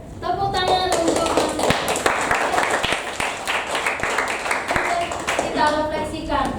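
Students in a classroom clap together, a dense burst of hand claps running several seconds, with voices heard at the start and end.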